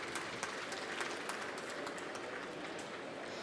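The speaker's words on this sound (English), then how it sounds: "Round of applause, please," Applause from a conference audience at a climate-resilience financing event, a steady dense wash of many hands clapping at moderate distance, sustained without pause.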